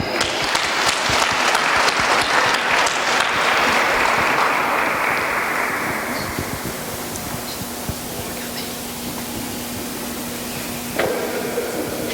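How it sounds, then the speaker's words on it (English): An audience at an Atlanta public schools student idea showcase gives a team a warm round of applause, loud dense clapping that gradually thins and quiets over about twelve seconds. "Let's give a warm round of applause for team number 2"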